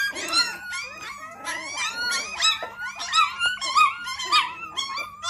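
Hungry young puppies, abandoned at a barber shop, whimper and yip continuously in a close, overlapping chorus of high, wavering cries.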